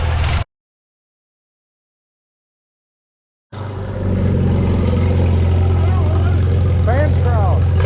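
Antique pulling tractor engine at a tractor pull test-and-tune session in Shannon, Illinois, cutting out after a brief burst, then a loud steady idle rumble resumes close by with people talking over it.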